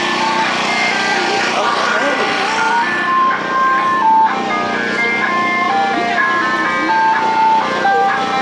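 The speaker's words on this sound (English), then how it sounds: "It's an ice cream truck." An ice cream truck plays its electronic chime melody loudly and continuously, the bright tune repeating over a low engine hum.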